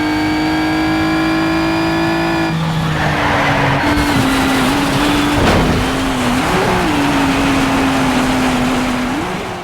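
Race car in Need for Speed Hot Pursuit 2 revving hard, the loud engine note rising and shifting while tires squeal and skid, steady and up close throughout with no talking.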